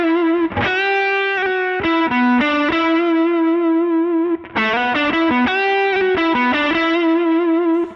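A distorted electric guitar plays a melodic line full of pitch bends and slides, notes swooping up and down, with a short break midway.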